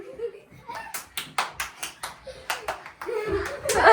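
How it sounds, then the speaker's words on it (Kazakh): Children clap their hands in a loose, repeated rhythm during a blindfold guessing game at home, about a dozen sharp claps over a few seconds, with voices and noise rising toward the end. "Шапалақ ұрамыз."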